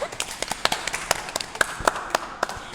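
A few hands clapping in an uneven, sparse rhythm, sharp distinct claps close by rather than a full crowd, with light voices faintly underneath.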